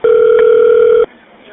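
A telephone call tone from a played call recording: one loud steady electronic tone lasts about a second, then cuts off to faint line noise.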